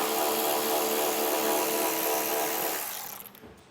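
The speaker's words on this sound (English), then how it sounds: "we'll grab a T30 Torx bit and remove the screw here down at the bottom" A T30 Torx bit on a power driver backs a screw out of the lower mount area on a 2018 vehicle during base plate installation, a steady close whir lasting about three seconds before tapering off.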